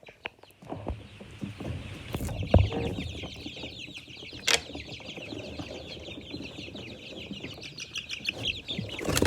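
Chicks and chickens cluck and chirp continuously at close range as they are moved, with occasional wing flaps and handling bumps mixed in.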